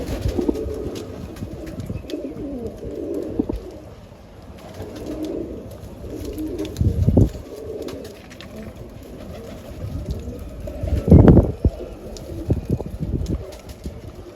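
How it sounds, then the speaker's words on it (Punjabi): Racing pigeons coo in soft, low, throaty rolls that repeat steadily, with a couple of louder, closer bursts partway through and no talking. "ਇਹ ਆਪਣੇ ਕਬੂਤਰ ਨੇ ਬਈ ਸਾਰੇ"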